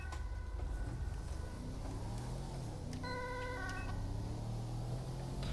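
Fire engine siren in GTA 5, a faint, wavering electronic wail at a distance, heard over engine rumble and traffic noise in the game.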